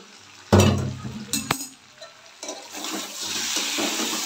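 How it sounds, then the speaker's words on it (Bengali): Water poured into a pan of vegetable curry, a loud gushing splash that starts sharply and then settles into a steady hiss and bubbling, with a few clinks of utensils and no talk. "তরকারিটা এবার জল দিয়ে দেবো।"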